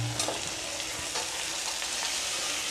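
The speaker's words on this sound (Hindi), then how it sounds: "अब हम हरी मिर्च और बंदा डालेंगे।" Green chillies go into a pan of browned onion and tomato, giving a loud, steady sizzle with a few soft stirring scrapes and no voices.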